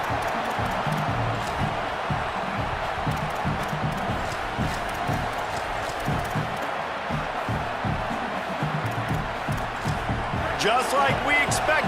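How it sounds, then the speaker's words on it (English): A home crowd roars steadily in a football video game, a dense continuous wall of cheering and noise under constant commentary talk, with brief sharper thuds and swells near the end. "this home crowd getting involved right from the start"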